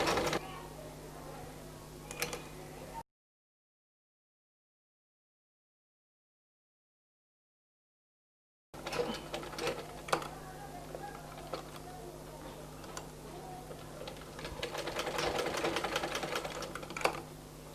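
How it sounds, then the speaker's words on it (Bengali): A sewing machine double-stitches the seam of a baby boy's half pant in short close bursts of rapid clattering, broken by a long silent gap and handling clicks. "এখন এটাকে ঘুরিয়ে আরেকটা ডাবল সেলাই করবো"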